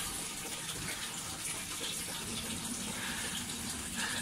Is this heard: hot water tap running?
yes